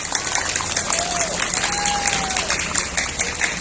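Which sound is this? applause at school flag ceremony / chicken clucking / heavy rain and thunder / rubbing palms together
applause at school flag ceremony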